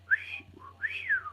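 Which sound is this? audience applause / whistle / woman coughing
whistle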